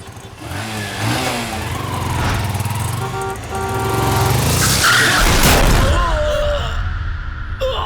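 A motorcycle skids and crashes during a road scene, with a broad scraping, skidding burst building to a loud, noisy impact around the middle, engine rumble underneath and a few tonal squeals afterward.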